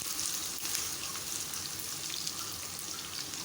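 Finely chopped onions frying in about half a cup of oil, a dense, even hiss and crackle running steadily throughout at moderate volume, with no voices.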